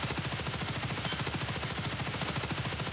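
An HK416 rifle fires on full auto in Escape from Tarkov, a long unbroken stream of rapid, evenly spaced gunshots that are loud and steady throughout. No one speaks over it.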